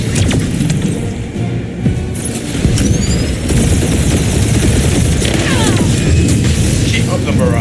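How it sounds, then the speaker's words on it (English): Guardians of the Galaxy space battle barrage: dense, continuous rumbling blasts and rapid gunfire fill the scene loudly, with booming impacts layered through the whole stretch. "Keep up the barrage. They will not survive it."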